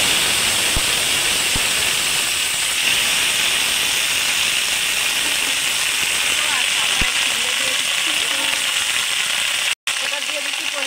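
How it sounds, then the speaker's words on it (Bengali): Greens dropped into hot oil with crushed ginger and radhuni, frying in a pan with a loud, steady sizzle that fills the whole stretch, broken by a few faint knocks and one brief dropout near the end. "সমস্ত কিছু একটু ভালো করে ভেজে নিয়ে এখন শাক পাতাগুলো দিয়ে দিতে হবে"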